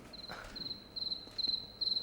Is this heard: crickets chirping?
yes